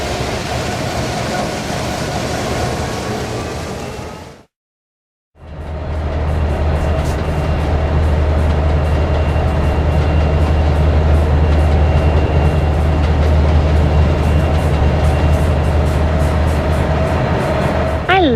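Continuous heavy rumble of a train engine hauling coal wagons along rails, steady and loud, broken by a brief silent gap near the start, with faint clanking above the low drone.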